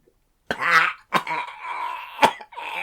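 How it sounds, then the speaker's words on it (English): A man coughs during a dramatised reading of an Edgar Allan Poe story, in a nitre-lined vault. Three harsh, close coughs come in a row with short gaps, followed by a fourth that trails off, and no other sound around them. "How long have you had that cough?"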